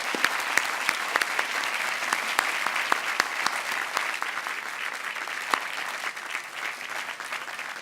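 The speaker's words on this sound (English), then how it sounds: "Let's give a warm round of applause" Sustained applause from a large university commencement crowd, dense clapping with a few sharper claps standing out, steady and loud throughout.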